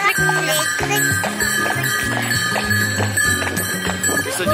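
Horse hooves clip-clop in a steady rhythm at a Christmas market, over a tune with stepped notes, fairly close and constant throughout.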